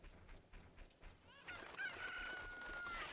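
A Cucco chicken in the video game The Legend of Zelda: Ocarina of Time clucks softly a few times, then lets out a loud, drawn-out crowing squawk that holds to the end.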